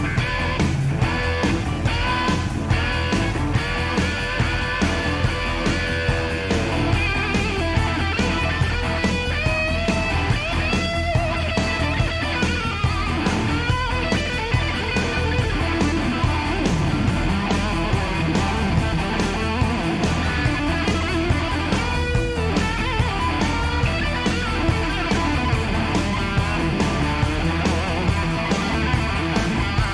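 A full band plays dense, loud live rock with a gritty blues feel, a lead guitar line running over steady drums and bass throughout.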